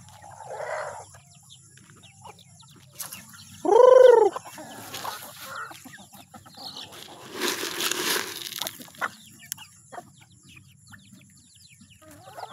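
A rooster crows once, clear and fairly close, amid quiet outdoor ambience with faint other bird calls and a soft rustle afterward.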